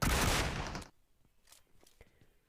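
Loud burst of automatic gunfire in a BGMI / PUBG Mobile battle royale match on the Sanhok map, a dense volley lasting under a second, followed by fainter scattered distant shots and small game noises.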